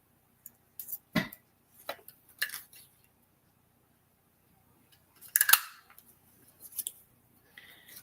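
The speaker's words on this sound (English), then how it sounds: "well, I might as well punch the rest out here." A 1 inch paper punch cuts through paper in a series of sharp, separate clicks and snaps spaced irregularly over several seconds, close up with quiet gaps between.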